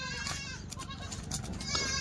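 Kathiawari goats bleat close by in a busy livestock sale setting, with several overlapping cries rising over a constant background murmur.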